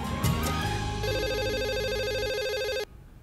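A telephone in an Indonesian-dubbed Indian TV drama rings with a loud, steady electronic trill, close by, then cuts off abruptly near the end, with no talking.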